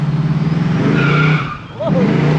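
A 1969 Chevrolet Camaro launches hard, its engine roaring loud and close while the tires squeal, with a brief dip in the noise as it shifts before the engine noise surges back.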